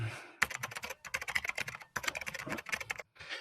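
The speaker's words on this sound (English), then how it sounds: "I'm just going to demonstrate this to you by actually typing workshop for Facebook" Rapid typing on a computer keyboard sounds close up as quick bursts of key clicks, with brief pauses between runs of keystrokes.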